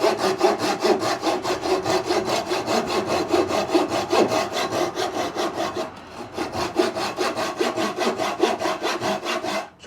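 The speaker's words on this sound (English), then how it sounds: "Obviously the coarser side's going to go through that pine a lot better" The coarse side of a flush cut saw rips through pine in quick, even back-and-forth strokes, a close rasping rhythm with one brief pause midway.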